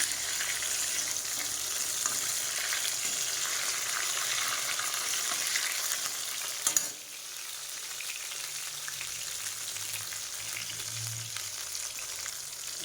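Eggplant slices frying in oil in a pan, a steady close sizzle that briefly spikes and then settles to a slightly lower hiss, with a low hum near the end.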